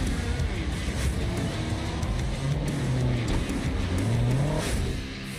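Monster truck engines from the Monster Jam Showdown video game roar and rev steadily at close range, with the pitch rising and falling through two brief surges before easing off at the end.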